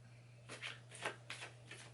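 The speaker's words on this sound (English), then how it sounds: "This shuffles like a dream." An Alice in Wonderland oracle card deck being shuffled by hand, four quiet, soft riffling bursts in quick succession over a low steady hum.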